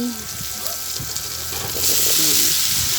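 Vegetables added to a hot pan fry and sizzle steadily, with the hiss growing louder partway through, while someone talks over the cooking.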